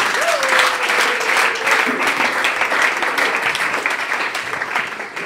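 An audience at a national education day event bursts into sustained applause, a dense, even roar of clapping that holds steady and fades slightly at the end, with a faint tonal whistle early on.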